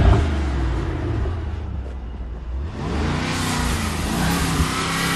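A James Bond coupe's engine drones steadily up close, then surges into a louder rising rev partway through, with a continuous low rumble and no talking.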